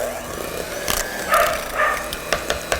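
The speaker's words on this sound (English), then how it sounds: "my dog is going to start barking." A dog barks in a few short, fairly quiet yips and woofs indoors in a kitchen, spaced apart over soft background noise.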